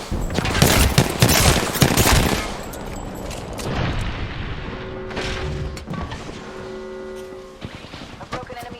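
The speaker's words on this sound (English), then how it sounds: "Listen up, I'm getting shot at" Rapid gunfire erupts in Apex Legends, dense automatic bursts and heavy booms crowding the first few seconds, then sparser shots and clanks under game voice callouts and sustained electronic tones.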